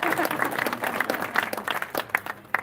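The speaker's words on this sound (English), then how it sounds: "you can give yourselves a round of applause for that" Audience at an elementary school ribbon cutting ceremony for a new building breaks into loud, dense applause with cheering voices mixed in, close and lively throughout.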